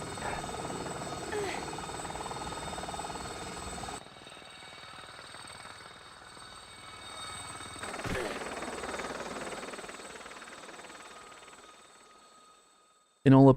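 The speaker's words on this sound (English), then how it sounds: "I always use this cutscene because it has Lara coming out the helicopter." A helicopter in a Tomb Raider video game cutscene gives off a steady rotor whir and hum that swells and fades across the scene. It ends in a short, loud burst.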